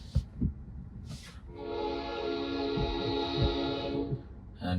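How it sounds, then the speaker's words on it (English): A train passing at a crossing heard from inside a robotaxi, with a long sustained horn blast sounding over low rumbling thumps of the cars going by. "And we got a train coming."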